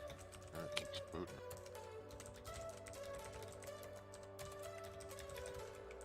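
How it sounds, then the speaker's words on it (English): Steady tapping on a computer keyboard runs throughout, fast and continuous clicks at low volume with a faint background hum, somewhat distant through a live call. "I can hear somebody's No. typing"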